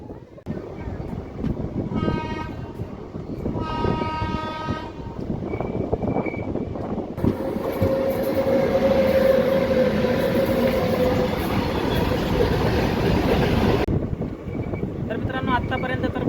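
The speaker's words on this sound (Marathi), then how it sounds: "आपली ट्रेन निघालेली आहे" The 01451 Kulburgi Superfast Express passenger train rumbles along from Pandharpur to Akkalkot with wind buffeting the microphone. Brief horn-like tones sound early on before the steady running noise takes over.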